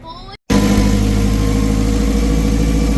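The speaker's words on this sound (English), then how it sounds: "So we set her outside, rev it up, and just let it run for 5 minutes." A John Deere 8RX tractor engine runs outside to warm its oil, starting after a brief gap into a loud, close, steady rumbling idle with a droning hum throughout.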